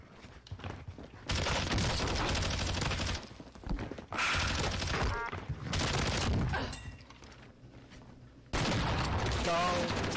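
Bursts of automatic gunfire from the video game Warzone rattle in several loud stretches separated by brief quieter gaps, with voices speaking in between.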